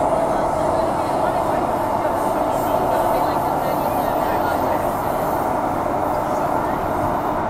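A Transperth A-series passenger train rumbles along at speed near Perth, a steady loud roar of wheels and carriage noise heard from inside, continuous throughout.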